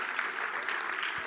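A conference crowd at a main stage event claps in a quiet, even patter that stays fairly distant and soft throughout, with no speech over it.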